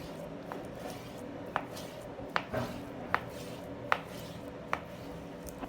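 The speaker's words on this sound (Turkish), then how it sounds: "şimdi bunu doğramaya geçiyoruz." A knife chops meat sharply on a board about once every three quarters of a second, crisp separate thwacks over a quiet room background, preparing minced-meat pide.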